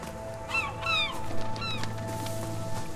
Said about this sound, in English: Fly away, little seagulls.